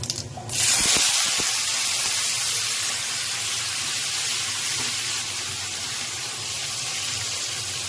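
Fenugreek, chopped onion and tomato hit hot oil in a pan for a fish curry, bursting into a loud, steady sizzle that hisses on unbroken for several seconds, with a few faint clinks early on.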